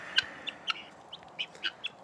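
Birds move around close by at a Texas retreat, giving a string of sharp, separate clucking chirps at an uneven rhythm over quiet background, with no talking.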